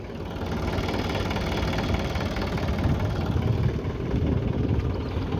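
A Balwan 500 tractor engine runs steadily nearby, a loud, continuous mid-pitched knocking drone with slight vibration and no talk over it.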